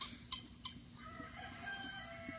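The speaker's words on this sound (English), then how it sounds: "These are the smallest chickens in the world." Tiny Serama chickens, the world's smallest breed, give a few faint clucks and short calls at a distance, with a thin crowing note drawn out toward the end.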